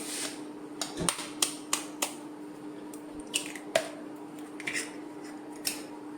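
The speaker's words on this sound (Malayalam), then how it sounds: "4 മുട്ടയും ഒന്നിച്ച് നമുക്ക് പൊട്ടിച്ച് ഒഴിക്കാവേ" Four eggs cracked one after another into a bowl for marble cake batter, a series of sharp close taps and cracks with soft wet splats and drips as the contents pour in, over a quiet kitchen hum.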